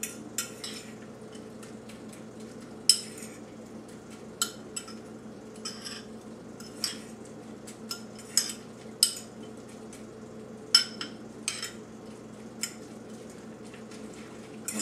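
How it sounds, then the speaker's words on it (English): A spoon stirring oats coated in egg white with cinnamon and flax seed in a bowl, producing irregular clinks and scrapes against the bowl over a quiet, steady background hum, close and moderately loud. "Get all that cinnamon stirred in"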